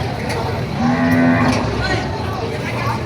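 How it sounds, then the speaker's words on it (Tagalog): Water buffalo bellowing at a livestock market in Padre Garcia, Batangas, a single drawn-out low moo rising over a steady background of crowd murmur and market noise. "Dito po tayo ngayon sa area ng mga kalabaw."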